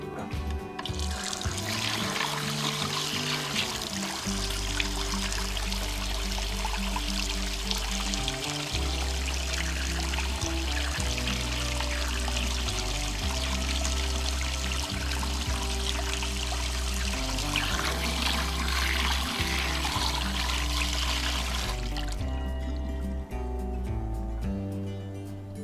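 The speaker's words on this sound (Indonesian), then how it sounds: "apabila kita cuci tangan menggunakan air mengalir" Hands are washed under a running tap, a loud, steady stream of water splashing continuously for about twenty seconds before stopping, with a low hum underneath.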